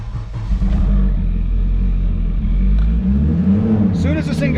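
A 2005 Volvo S60R with the 2.5T engine cranks and rumbles loudly at close range, its low throbbing note holding steady before rising, with people talking over it.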